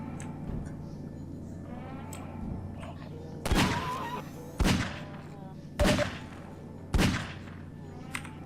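Video game gunfire rings out four times, sharp loud shots spaced about a second apart as an enemy is hit, following softer thuds and quiet game sounds at the start.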